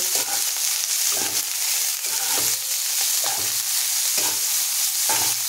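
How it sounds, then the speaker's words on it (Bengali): Vegetables fry with salt in a pan for fried rice, a steady loud sizzle broken by repeated scraping stirs about once a second, with no talking. "এটাকে ভালো করে আমি ভেজে নেব"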